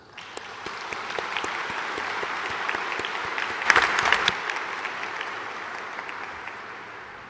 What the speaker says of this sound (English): Let us give a round of applause for our MC13 host